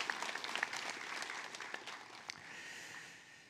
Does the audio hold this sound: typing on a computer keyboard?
no